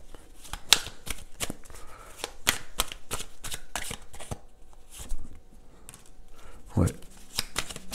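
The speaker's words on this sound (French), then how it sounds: "On va se prendre une carte, deux, trois cartes de tarot quand même." Tarot cards are shuffled by hand in quick, repeated riffling bursts, close and crisp, with a brief spoken word partway through.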